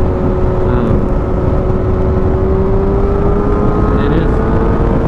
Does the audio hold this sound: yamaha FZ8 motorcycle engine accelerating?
yes